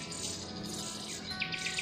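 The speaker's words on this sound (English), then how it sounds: "usually when it is hungry it will be marked by the distinctive scream of a baby Punglor bird" A hungry baby Punglor bird, over two weeks old, gives short high chirping calls near the end, rising out of a steady background noise.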